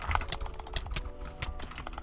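Fast typing on a Redragon K630 mechanical keyboard during a Hypixel Skywars match, dense rapid key clacks in an uneven rhythm, close and steady, with no talk.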